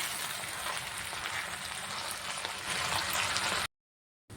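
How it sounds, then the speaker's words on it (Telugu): Moringa leaves frying slowly in oil over a low flame, a steady soft sizzle and crackle close by that runs without talk, then cuts off abruptly. "లో ఫ్లేమ్లో పెట్టుకొని బాగా ఫ్రై అవ్వనివ్వాలి ఇది బాగా వేగడానికి టైం పడుతుంది స్లోగా వేయించుకోవాలి"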